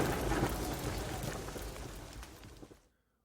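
Heavy rain pours down with low rumbling thunder in a dramatized storm scene, a dense hiss that gradually fades out to silence near the end.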